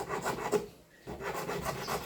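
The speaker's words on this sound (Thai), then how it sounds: "ใช้ตะไบตัวใหญ่นะ" A large hand file rasps across a 2 mm plastic sheet, trimming uneven saw-cut edges while making a waterproof amulet case. Close, steady back-and-forth strokes scrape on, with a brief pause midway.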